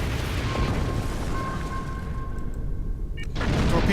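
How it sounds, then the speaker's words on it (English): A torpedo launches at a ship in the Star Trek Online video game as a dense, rumbling whoosh with thin tonal whines. It cuts off abruptly, then a loud burst swells back in. "Torpedo away."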